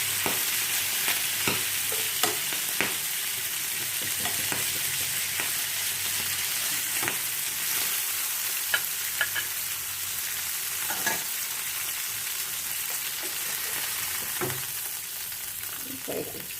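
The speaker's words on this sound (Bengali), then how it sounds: "মাছ কটা ভাজা" Fish sizzles and crackles in hot oil, a steady bright frying hiss with occasional sharp pops and stirring scrapes, close and continuous.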